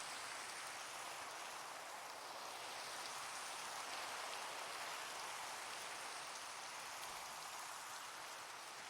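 Constant rain in Minecraft at night, an even, hissing wash of falling drops that holds steady throughout, fairly soft and with no talking.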